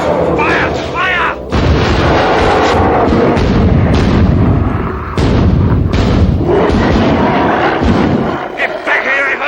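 Rapid, loud gunfire in a dramatized prehistoric hunt, sustained bursts and booming reports crowding the scene almost continuously, with shouting voices mixed in among the shots.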